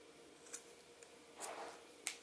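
Scissors cutting crochet yarn, leaving a tail after a travel mug cozy is finished: a few faint, brief snips, the clearest two near the end, alone and quiet.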